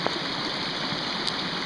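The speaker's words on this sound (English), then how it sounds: "It's just the water running downhill." Rainwater from a tropical storm rushing downhill through a flooded gully on a farm, a steady, close, broadband roar of running water with no talking.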